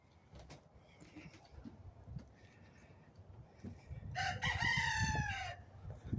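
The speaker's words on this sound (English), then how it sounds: "That rooster's a crowing this morning." A rooster crows once at moderate distance, a long drawn-out call rising and falling, over low rumbling background noise.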